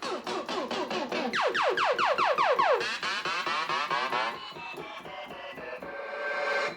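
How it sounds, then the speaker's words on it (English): Yamaha PSR-170 keyboard playing its DJ game 1 voice, a dense, busy electronic pattern of rapid scratch-like sweeps and stuttering hits, loud and continuous throughout. "we have like DJ game 1, which sounds like this"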